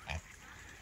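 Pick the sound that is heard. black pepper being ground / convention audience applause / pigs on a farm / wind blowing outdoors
pigs on a farm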